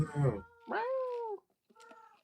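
A cat gives two drawn-out, rising meows close by, the second softer and trailing off, with a brief voice-like sound at the start.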